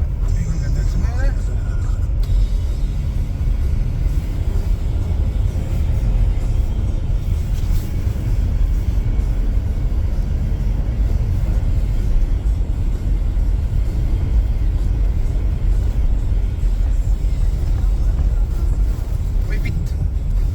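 Interior of a soft-riding BMW car on the move: a constant low engine and road rumble fills the cabin, loud and steady throughout, with people talking over it.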